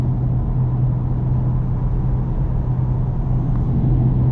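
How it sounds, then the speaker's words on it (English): A 2024 Lexus IS 350 F-Sport's engine drones steadily from inside the cabin, a low, even rumble with no clear rev spikes that would mark a gear change. "Downshift again. Super grunty."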